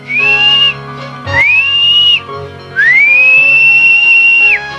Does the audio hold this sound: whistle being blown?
yes